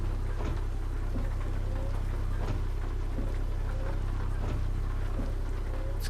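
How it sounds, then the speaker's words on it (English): Rain patters on a truck windscreen, a steady hiss with scattered drop taps over a constant low engine rumble inside the cab. "Seen all the rain on the windscreen"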